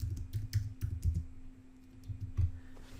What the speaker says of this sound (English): Here you can type in your text